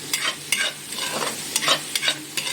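Onions browned to a reddish color frying in a pan, stirred with quick repeated scraping strokes over a bright, crackling sizzle, close and loud.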